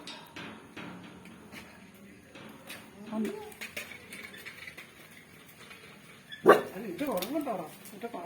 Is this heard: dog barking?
yes